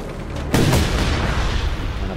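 A sudden explosion in the open-world action game Just Cause 3 bursts out with a sharp, loud boom, then rolls into a low rumbling tail over steady background game noise.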